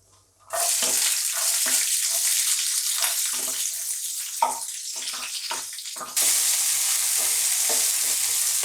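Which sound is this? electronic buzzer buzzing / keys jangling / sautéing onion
sautéing onion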